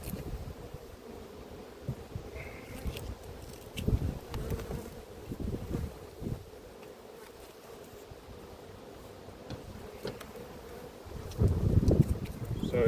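Honeybees buzz around an open hive in an apiary, a close, continuous droning hum with a few louder bursts of movement and handling noise near the end.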